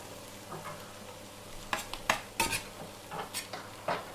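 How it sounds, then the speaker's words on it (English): Kale, chestnuts and brussels sprouts stirred in a frying pan, with a soft sizzle underneath and a few sharp scrapes and clanks of a utensil against the pan, close up and with no talk. "Just gonna add the kale in there. Give it a stir."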